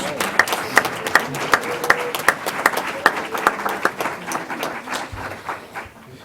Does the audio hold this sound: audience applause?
yes